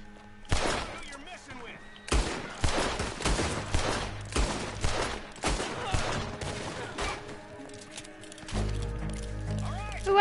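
Gunfire during a saloon fight in the video game Red Dead Redemption 2, with loud, dense volleys of shots in several long bursts, and a voice talking between them.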